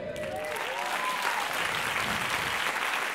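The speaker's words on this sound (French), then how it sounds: "Applaudissements pour David Sonsac." An audience claps in sustained, dense applause after a humour and personal-development talk at a conference event, the steady wash of hands filling the room without a break and no speech over it.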